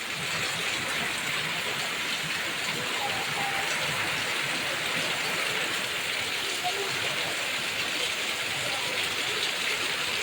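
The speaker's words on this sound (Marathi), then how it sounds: "वर बघा इकडे समोर पण किती पाऊस होतोय" Steady heavy rain, the first of the season, pours down over a village near Jalgaon in a dense, unbroken hiss that fills the whole stretch, with a faint voice barely audible beneath it.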